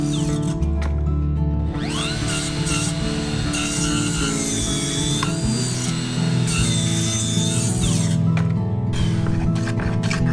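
A saw cuts slowly through a plywood board during a Japanese carpenter's staircase renovation, producing a loud, continuous grinding drone that varies in pitch and fills the whole stretch, with no voices.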